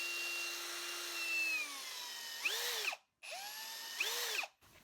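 A handheld drill spins a 6 mm HSS bit into metal, the whine sliding in pitch as it loads and unloads, cut by a brief pause before a second close, loud burst.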